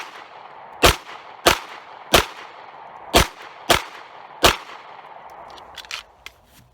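Six sharp gunshots from a gun firing Winchester steel-cased ammo at a backpack outdoors, spaced unevenly about half a second to a second apart, loud and echoing, followed by faint rattling.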